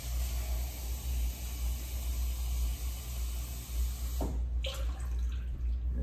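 Water pours steadily into a pot for fish chowder, a continuous soft hissing splash that ends with a couple of faint clinks near the finish, with no one talking.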